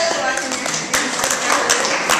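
Dense applause from an audience fills the space with continuous loud clapping, sharp hand slaps cutting through a steady wash of noise throughout.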